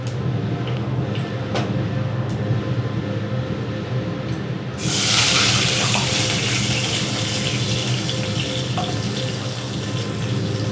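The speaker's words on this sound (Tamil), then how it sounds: "ஸோ நான் இப்போ தண்ணி தான் சேர்க்க போகிறேன்" Running water pours steadily from a tap into a cooking pan, growing louder and more splashy midway, with faint clinks and background hum.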